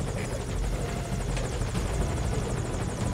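Helicopter in Metal Gear Solid V hovering close by, a loud continuous rotor thump with rapid chopping pulses and engine roar throughout, no talk.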